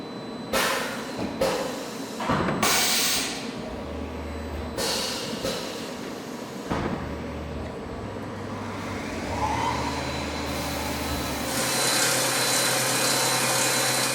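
A CNC mill with an automatic tool changer working through a tool swap: whirring spindle noise, sharp mechanical clunks and pneumatic bursts, steady machine hum underneath, close and fairly loud with no talking.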